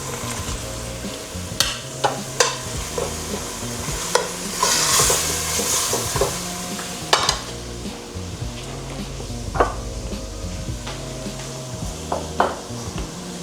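Beef cubes sizzle and fry in a pan for a stir-fry with vegetables, stirred with repeated scrapes and clinks of a utensil against the pan over a steady sizzling bed throughout.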